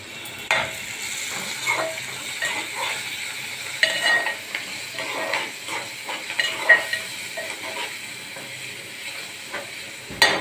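Green chili paste frying in a pan for Andhra-style burgula talimpu, a soft continuous sizzle broken by scraping and clinking stirs against the pan.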